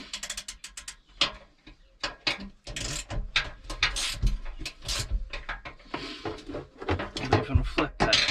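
Ratcheting clicks of a VW T5 double reclining seat mechanism, close and loud, in irregular runs of sharp ticks and clunks as the seat is cranked back and forth.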